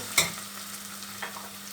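Pepper paste and tomato paste frying in a hot pan, sizzling steadily up close with a sharp stir or clatter at the start and another faint one near the end, no voices.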